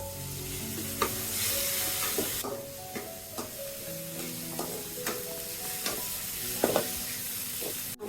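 Spice paste with a splash of water sizzling and frying in a pan while being stirred for a thin rohu fish curry, with steady bubbling sizzle and scattered scraping taps of the spoon throughout.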